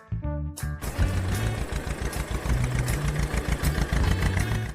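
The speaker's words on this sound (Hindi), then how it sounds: "इस तरह विमल ने उस मिनी ट्रैक्टर जेसीबी की मदद से पूरा पहाड़ खोद डाला" Small engine of a mini tractor JCB digger starts with a sputter and settles into a steady, close, throbbing run with a rhythmic chug.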